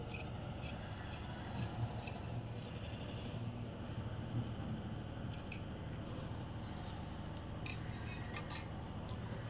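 Steady snips of tailoring scissors cutting blouse fabric, a series of crisp closes repeating close up at an even pace, with faint rubbing of cloth between cuts and no talk.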